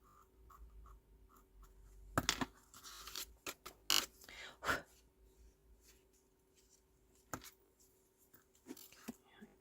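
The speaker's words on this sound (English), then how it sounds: "Just going to scrape very gently with my scissors." Scissors scrape gently across a handmade stamped birthday card, giving soft, faint scratchy rustles broken by a few sharper louder scrapes and taps in a quiet room.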